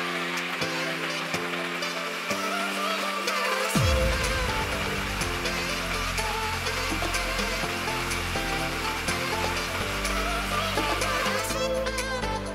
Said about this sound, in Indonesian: Oke, langsung kita blender ya.